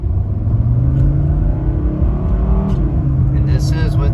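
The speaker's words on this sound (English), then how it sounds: "I'm just going to floor it so you can see the acceleration." A 1992 Mercedes 300D 2.5 Turbo diesel with its AC compressor running accelerates at full throttle, a loud, steady engine drone rising in pitch from inside the car.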